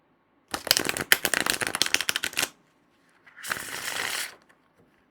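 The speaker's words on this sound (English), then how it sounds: "So nice, easy shuffle there" A glossy-stock tarot and oracle deck being riffled, a dense burst of crisp rapid flutters for two seconds, then after a pause a shorter, softer card-shuffling swish, close and loud with no talking.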